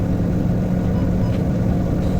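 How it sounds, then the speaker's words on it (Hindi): Cars and trucks sit idling in heavy, queued road traffic, a steady low engine rumble and broadband road noise filling the clip without pause, loud and continuous with no distinct events or talk. "बहुत ट्रैफिक है, लाइनें लगी हुई हैं सीधे के लिए भी,"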